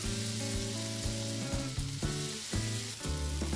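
Sliced tomatoes and capsicum sizzle steadily in a hot pan while being stirred, a continuous close frying hiss running under sustained tonal background sounds.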